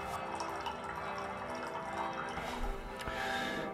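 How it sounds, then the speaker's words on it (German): Water runs steadily from an Aquavolta Osmoveda H2 reverse osmosis unit with tank, a continuous close trickle and splash filling a vessel, with faint dripping ticks throughout. "Wenn du es einfach laufen lässt, kommt halt ein Liter Wasser raus"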